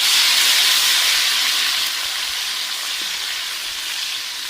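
Chopped tomatoes hit browned onions in a hot pan for a village-style radish sabzi, setting off a loud, steady hiss of sizzling that eases slightly as it settles.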